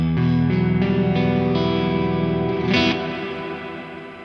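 Electric guitar played through a distorted amp with a Neunaber Immerse Mk1 reverb pedal in the effects loop, sustained chords ringing out into a lush, huge reverb wash that slowly decays, loud and alone.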